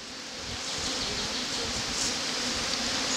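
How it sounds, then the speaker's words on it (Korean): A dense swarm of bees hums steadily around a large wild hive opened during a honey harvest in spring forest on Mount Paektu, a loud, continuous close buzz with no pauses. "생각보다 벌집 규모가 상당히 큽니다"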